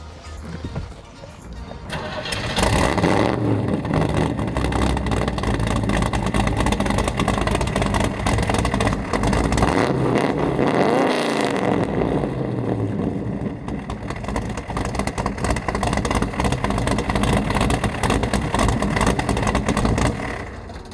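A 1981 Corvette engine turns over and fires up, then runs loud and rough for a long stretch, swelling with a few revs before settling back.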